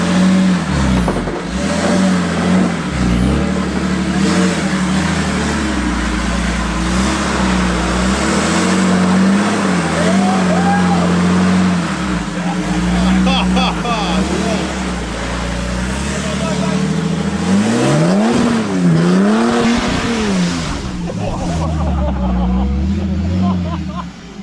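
A 4WD climbs a rough off-road track, its engine revving hard and steadily for the whole stretch, loud and close, with voices talking over it.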